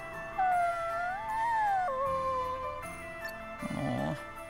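A lost puppy in the video game Bravely Default II whimpers in long, rising and falling whines, a few drawn-out cries with a soft jingle, close and clear over a quiet game music bed.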